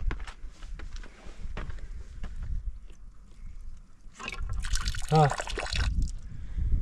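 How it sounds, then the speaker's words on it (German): Tap water runs into drinking bottles at an outdoor stop with metal shelters and benches in Armenia during a cycling trip. Soft background noise gives way to a louder rushing stream near the end, with faint voices around it. "die Flaschen werden jetzt erstmal aufgefüllt"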